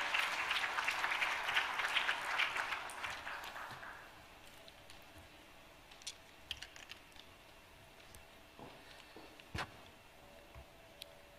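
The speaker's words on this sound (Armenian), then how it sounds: "բարձր ծափահարություններով" An audience applauds loudly for a few seconds as a speaker climbs onto the stage at a formal government session, then the clapping fades into scattered claps, shuffles and room noise.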